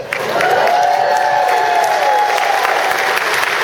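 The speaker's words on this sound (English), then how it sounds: "Normally there's a really big applause right now." A crowd at a regional event bursts into full, sustained applause with some cheering, loud and continuous throughout, with a tonal hum or voice-like tone running underneath.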